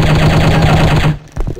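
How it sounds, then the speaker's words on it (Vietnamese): An enemy's rapid automatic gunfire rattles loud and steady in the shooting game Striker chapter 2, breaking off abruptly after about a second, followed by a couple of softer clicks. "Cái thằng này nó cứ đứng đây nó bắn."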